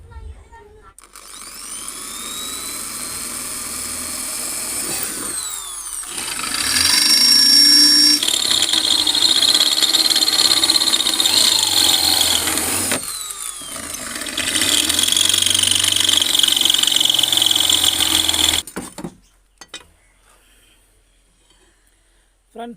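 A power drill bores holes in a homemade fishing spear gun in two long, loud whining bursts separated by a short break. The motor cuts off abruptly, leaving near quiet.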